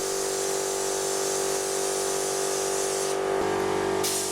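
A spray gun laying acrylic 2K paint onto car doors of a Charade restoration, a continuous close rushing hiss with a steady tonal whine from the compressor running beneath, unbroken throughout and shifting slightly near the end.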